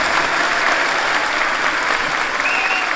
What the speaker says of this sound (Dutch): Geeft u man even applaus